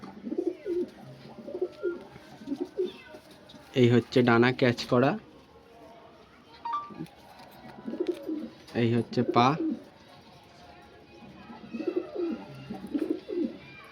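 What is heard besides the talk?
pigeon cooing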